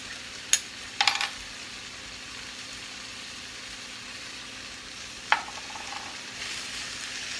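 Soy sauce and cornstarch slurry sizzling in a pan under a steady low hiss, with a few sharp clinks of a utensil against the pan, close and without talk.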